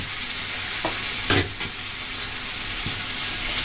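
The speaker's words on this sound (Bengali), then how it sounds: "এটা দিয়ে ভালোভাবে কষিয়ে একবার নেড়ে নেব" Spices for a raw jackfruit curry are stir-fried in oil, giving a constant close sizzle with a couple of brief scraping stirs of a utensil against the pan.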